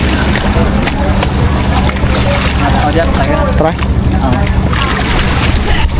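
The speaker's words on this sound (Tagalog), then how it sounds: "Nakasakay na naman po ako dito sa bangka" A motorboat drones steadily with engine rumble and wind buffeting over water, while people talk briefly nearby.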